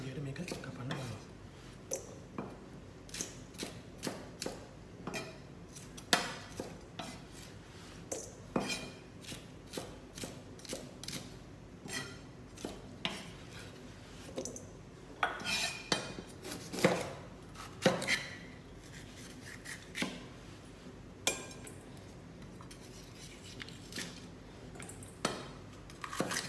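Knife rapidly chopping and julienning vegetables for an Italian-style mixed salad on a cutting board, steady close taps and clicks throughout, fairly quiet, with soft voice-like sounds faintly in the background.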